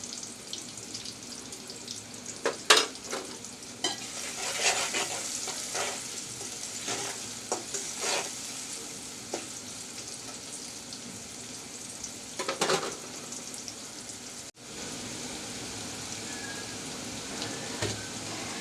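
Onions fry in a pan with salt as a continuous crackling sizzle, broken by frequent sharp stirring clicks and scrapes of a utensil against the pan, close and fairly loud, with no talking.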